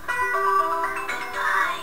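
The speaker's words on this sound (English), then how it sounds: "And that was my alarm clock." Alarm clock ringing with a steady, tonal electronic melody of bright, sustained notes, close and fairly loud, playing alone for under two seconds.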